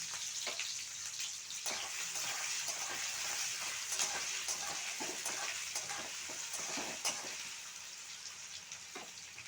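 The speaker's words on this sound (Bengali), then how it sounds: "এরপর আমি পেঁয়াজ কুচিগুলো দিয়ে দিচ্ছি। দিয়ে আমি ভালোভাবে ভেজে নিচ্ছি।" Chopped onions fry in a pan with a soft, constant sizzling hiss and light, irregular stirring clicks throughout, fairly faint and with no voices heard.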